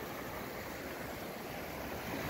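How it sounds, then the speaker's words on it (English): A tiny waterfall on a creek in the Greenhorn Mountain Wilderness, Colorado, gives a steady, even rushing splash throughout, close and fairly quiet, with no voices. "This cool little tiny bit of a waterfall"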